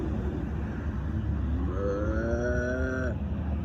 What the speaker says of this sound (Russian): А пока постою тут с коровами.